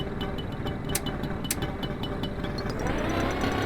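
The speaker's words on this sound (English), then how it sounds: "Okay, the moped has been started. The engine sounds good and won't be reused from the Lada or van engine." A moped engine in the Roblox game A Desrt runs with a steady buzzing putter and faint clicking ticks on top. The engine note climbs slightly in pitch toward the end, as if revving up.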